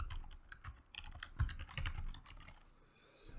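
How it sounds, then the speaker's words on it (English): Quick, uneven bursts of close computer-keyboard typing as a domain name is entered, soft clicking keystrokes with brief pauses between runs. "I'm going to type in the domain name"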